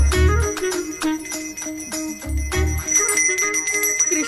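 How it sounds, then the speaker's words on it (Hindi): A bell rings on its own in a film scene, with a bright, sustained metallic ringing and repeated strikes over a loud, dense soundtrack, with no voices heard. "मैं कहाँ बजा रहा हूँ बेटा, ये तो अपने आप बज रही है।"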